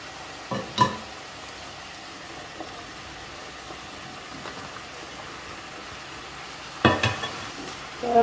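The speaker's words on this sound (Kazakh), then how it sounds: "Барлығын араластырамыз, жақсылап қуырылу керек." Diced potatoes and meat fry in a pan for a traditional Kazakh dish, with a faint steady sizzle broken by a few sharp clinks and scrapes of stirring near the start and end.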